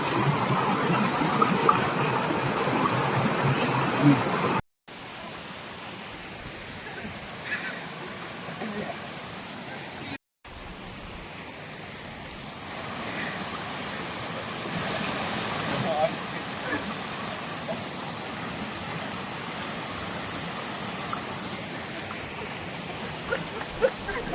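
Asurghati waterfall, a continuous rushing of water that fills the whole clip at moderate loudness, with two brief dropouts and some faint activity mixed in.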